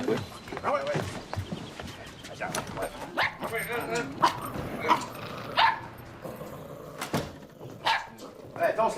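A dog in a French-Canadian TV sitcom barks repeatedly in short, close bursts, with yips and whimpers mixed in, over people talking nearby.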